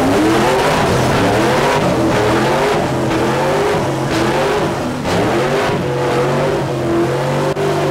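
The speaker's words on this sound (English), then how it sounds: "Yeah, I'm doing a skid!" Rally car skidding on dirt with its engine revving hard, a loud, continuous roar rising and falling in pitch as the revs surge repeatedly, heard close up from inside the car.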